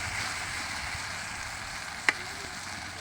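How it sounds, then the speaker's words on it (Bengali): Sautéed onions sizzle quietly in a pan, a soft steady frying hiss with one brief clink partway through. "পেঁয়াজটা আমাদের কষে নেওয়া হয়ে গেছে।"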